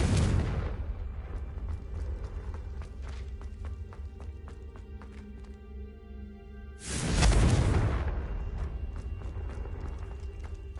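Two big blasts of the Confringo spell in the video game Hogwarts Legacy: a loud burst at the start, a long fading rumble with scattered ringing debris, then a second heavy explosion with another lingering tail.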